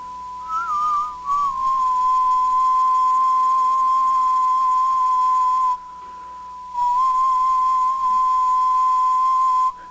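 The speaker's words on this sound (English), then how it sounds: "I am whistling one kilohertz" A person whistles a steady, pure high tone of about 1 kHz held for several seconds, breaking once briefly before resuming, loud and close.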